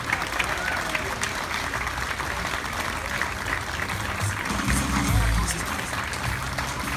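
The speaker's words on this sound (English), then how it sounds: "let's get a big round of applause for these youth Higher Rendition." Audience applause at the Oakville Jazz Festival for a youth jazz group, broad continuous clapping from a sizable outdoor crowd, with a low rumble swelling briefly near the end.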